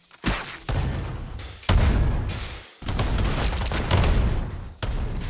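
Rockets launched again and again in the party shooter Big Fat Battle, a run of loud, booming blasts in quick succession, each a heavy thump trailing off into rumble, close and dominating with no talk over them.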